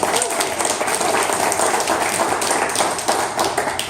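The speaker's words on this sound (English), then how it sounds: "Round of applause for the organizers," Dense, loud applause from a meeting audience for the event organizers, continuous and close with a steady wash of many hands clapping for the whole stretch.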